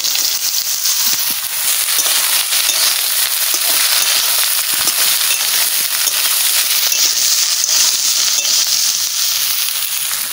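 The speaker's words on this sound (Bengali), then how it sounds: "এইবারটা আমি লাউ রান্না করব, সর্ষে দিয়ে দিচ্ছি।" Bottle gourd frying in mustard in a pan, a steady loud sizzle and crackle of hot oil with fine spattering that runs unbroken throughout.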